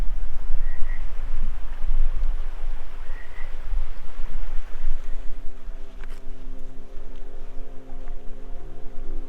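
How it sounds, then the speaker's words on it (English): Two frogs croak in a cold-water oasis in the southern Nevada desert, their short calls carrying faintly from below over a steady low outdoor rumble of wind or water. "there's two frogs talking to each other down there"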